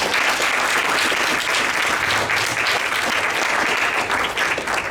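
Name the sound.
congregation applauding, hand clap of praise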